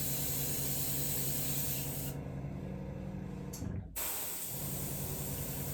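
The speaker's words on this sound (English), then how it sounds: "we just gonna airbrush this one because the other one broke" Airbrush spraying red food colouring onto a superhero cake, a close steady hiss that cuts out briefly and then resumes, loud and continuous with no talking.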